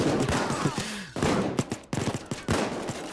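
Bursts of rapid gunfire crackle in quick volleys with short gaps between them, sharp and close, like automatic weapons in the game Payday 2, during a jewelry store heist with snipers.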